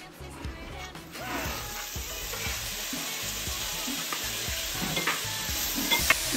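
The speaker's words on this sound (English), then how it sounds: "we are going to begin by browning a quarter pound of bacon" A quarter pound of bacon browns in a pot for red wine beef stew, giving a steady, dense sizzle that holds throughout, with faint stirring scrapes and a brief metallic tick near the end.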